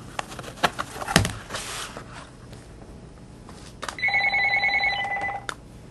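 An electronic telephone ringer sounds near the end, a steady warbling ring lasting over a second, after some handling and rustling noises in a room.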